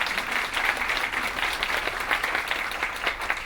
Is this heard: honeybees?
no